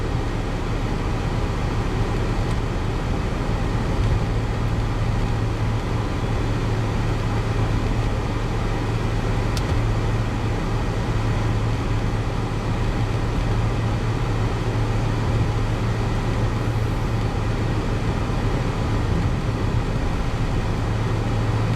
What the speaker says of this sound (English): Pretty hot today, so that noise is the AC.